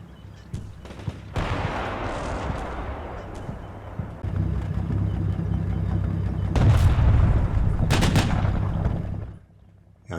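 Artillery barrage in the Cold War wargame Combat Mission, heavy booms and sustained rumbling blasts rolling over one another for several seconds, loud and dense before cutting back to quiet.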